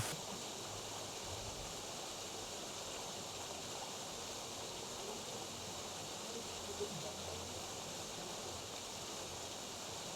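Bhalugaad waterfall in Mukteshwar gives a faint, steady wash of falling water, heard from a distance as an even broadband rush with no voices.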